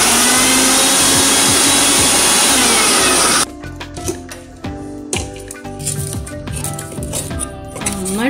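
A mixer grinder jar grinds Bounce biscuits into powder, a loud, harsh motor whine that cuts off abruptly after about three seconds, followed by clattering and rattling of the jar and contents.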